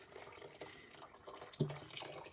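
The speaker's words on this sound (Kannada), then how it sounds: "ಬಿಸಿನೀರೇ ಹಾಕ್ತಾಯಿದ್ದೀನಿ ನಾನು" Hot water is poured over washed lentils for a Ugadi obbattu recipe, giving a quiet, soft running-water sound with a brief louder splash partway through and no talking.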